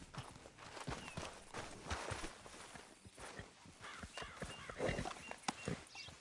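Hooves clop irregularly in a PS4 video game as a horse is ridden, fairly faint and mixed with scuffing footstep-like thuds and light ambient noise.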